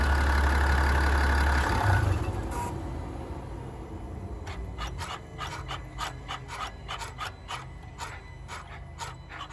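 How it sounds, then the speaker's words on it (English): A 2021 Chevy Tahoe with the Duramax 3.0 diesel winds down after shutdown, a loud low rumble stopping within two seconds, then quieter scraping, rubbing and repeated ticking clicks continuing near the vehicle, with no talking. "here's a video of all the random sounds that this car makes when you shut it off"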